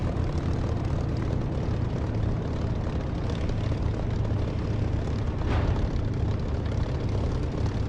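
Propeller aircraft in the DCS flight simulator landing and rolling out, a steady low engine drone with rumbling, bumpy texture and a brief thump midway, continuous and close with no talk.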